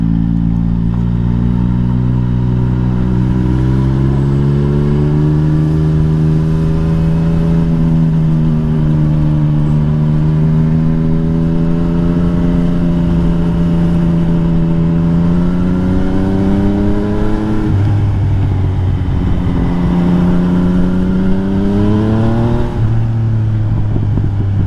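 A Yamaha MT-09 motorcycle engine drones steadily on a road ride, close and loud, its pitch rising gradually through gears with drops at shifts and wind rush throughout.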